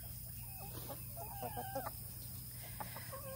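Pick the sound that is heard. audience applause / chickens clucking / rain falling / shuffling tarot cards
chickens clucking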